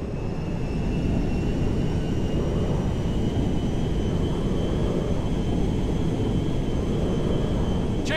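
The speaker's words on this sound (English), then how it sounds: "We are now landing at Mackenzie Field." A cargo jet roars steadily as it comes in to land at an airfield in the GTA 5 video game, a loud, sustained engine drone with a thin whine running over it and no talk.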